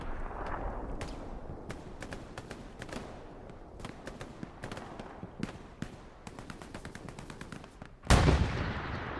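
Gunfire in the console war game Hell Let Loose during a large competitive match, with many sharp shots cracking at varied distances and a loud, heavy blast near the end.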